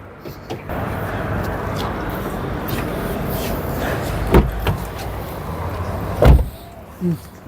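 A car door is handled as people get into a car for a driving lesson, with muffled interior shuffling and several sharp thumps of the door closing, under speech.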